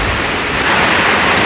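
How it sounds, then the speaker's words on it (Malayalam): Heavy rain pours steadily outdoors near a house reached on foot from the road, a dense, even hiss that fills the whole moment and swells slightly louder midway. "അപ്പോൾ ഞങ്ങൾ വണ്ടിയിൽ നിന്ന് ഇറങ്ങിയപ്പോൾ നല്ല മഴയാണ്."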